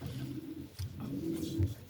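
A cock pigeon coos in a loft, low rolling and rather close, with a couple of throaty pulses and no talk.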